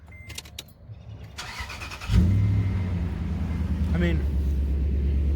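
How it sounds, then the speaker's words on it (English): A 2006 Toyota Tundra engine fires up with a sudden burst and keeps running at a steady, throaty idle through an underbody exhaust, while someone talks briefly beforehand. "it sounds like it's got an exhaust that's made to be underneath of it"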